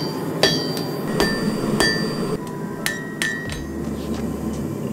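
Sharp metallic hammer strikes ring out on hot steel while forging a knife blade, spaced irregularly, each blow leaving a bright ringing tone; no talking.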